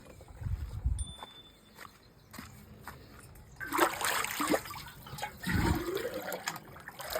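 Water splashes and gushes into a 15 litre farm pesticide sprayer tank in uneven bursts, loud and near, with quieter trickling between surges.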